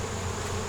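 Honey bees drone in a steady, dense buzz close to the microphone, a continuous hum with no break over a short moment at a hive being tended by a beekeeper.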